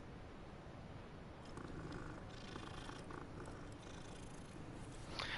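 A cat purrs steadily and softly in the Hogwarts Legacy video game, a low continuous rumble with faint background tones.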